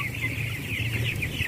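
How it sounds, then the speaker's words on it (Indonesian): A broiler chicken held in the hands inside a closed-house poultry shed clucks steadily and close up throughout, over a constant low mechanical hum. "misalkan kita ambil ayam"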